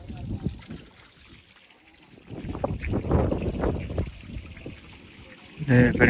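Water flowing beside the stone steps of Girnar during the descent, a steady rushing trickle that runs throughout beneath people talking, swelling louder toward the end.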